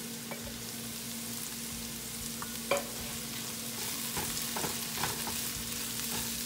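Beans and potato fry being stirred in a pan with chili powder, cumin powder and curry leaves, a steady sizzle under scattered scraping clicks of the spoon, close and moderately loud with no talking.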